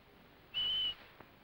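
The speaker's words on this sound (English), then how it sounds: "And then came the whistle to stop." A single short, shrill whistle blast sounds at a 1937 fishing competition to signal the stop, a steady tone lasting under half a second over faint background hiss, followed by quiet.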